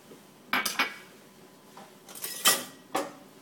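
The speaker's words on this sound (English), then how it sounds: "Stir all that up." Cellentani pasta being stirred in a pot with cream sauce and extra-old cheddar, several close metallic scrapes and clinks of a utensil against the pan at an uneven pace, with quiet gaps between; no talking.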